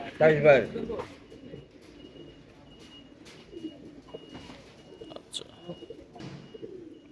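Pigeons coo softly in short bursts at a pigeon club in Mirpur during a racing tournament, with a louder burst at the start and people talking nearby.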